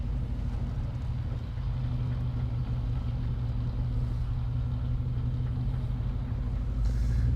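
A vehicle fitted with a Grizzly Locker and 4.56 gears coasts through a full-lock U-turn on the street, a steady low engine and drivetrain rumble holding close and even throughout with no clicks or scrubbing standing out.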